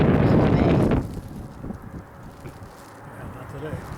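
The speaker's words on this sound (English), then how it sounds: "it's so windy we didn't want to risk it" Strong wind buffets the microphone outdoors in a field for about a second with a heavy roar, then eases to a gusty rustle while people talk.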